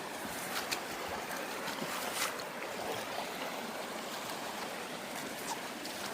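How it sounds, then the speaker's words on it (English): Swift river water rushes and splashes around a person wading in waders, a continuous, fairly faint wash of churning flow with occasional sharper splashes. "we're gonna walk upriver a little bit, or maybe just out into the river"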